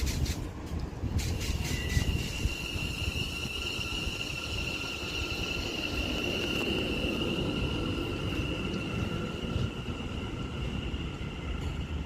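A West Midlands Railway train pulls out of Duddeston station on a service to Wolverhampton. A loud, continuous rolling rumble carries a sustained high wheel squeal and a few metallic clanks near the start.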